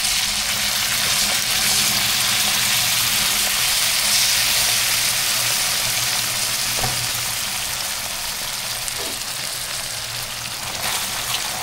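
Milkfish simmers in coconut milk in a pan, giving a steady, loud bubbling sizzle that runs without a break, with a few faint clicks and knocks in the background.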